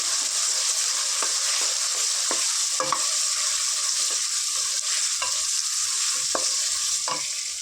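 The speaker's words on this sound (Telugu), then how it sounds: "ఆనియన్స్ని ఒక టూ మినిట్స్ ఫ్రై చేసుకున్నాం" Sliced onions and green chilies fry in oil with a loud, constant close sizzle, broken by a few sharp scrapes and clicks of a stirring spoon against the pan.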